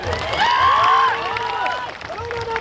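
A crowd at a public Birsa Munda birth anniversary gathering in Netrang cheers and claps, with rising shouts and whoops over steady, fairly loud clapping that swells and then eases over a few seconds.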